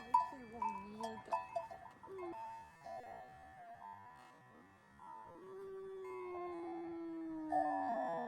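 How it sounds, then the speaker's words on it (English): Goats on a beach in Spain bleat in a few drawn-out, wavering calls, fairly close and otherwise quiet, with a faint clank like a bell between them. "Photogenic goats at that."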